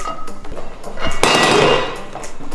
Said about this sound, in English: So we just have to screw the poles together.